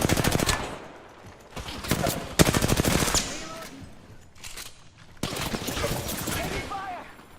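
Heavy automatic gunfire in a video game, coming in several rapid rattling bursts of varying length separated by short pauses, close and loud, with brief voice sounds mixed in.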